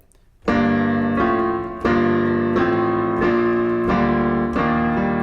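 Piano chords of a song's bridge played steadily, each struck chord ringing for over a second before the next, a slow sequence of sustained harmonies without any voices.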